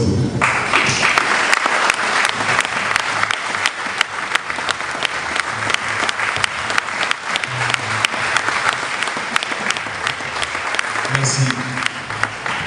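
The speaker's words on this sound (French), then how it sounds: "nous avons applaudi très fort" Loud, sustained applause from a church congregation, dense clapping that continues steadily for over twelve seconds, close and vigorous with sharp individual claps cutting through.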